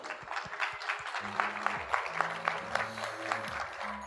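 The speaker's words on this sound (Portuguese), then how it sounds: "Uma salva de palmas, por favor." Audience applause at the APIX 2018 tech conference as presenters are called to the stage: a steady patter of clapping carries across the whole stretch, over low sustained tones that may be background music.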